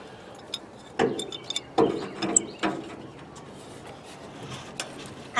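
Wrench ratcheting on truck shock bolts, a few sharp metallic clicks and clunks in short bursts, close and fairly faint against a quiet background.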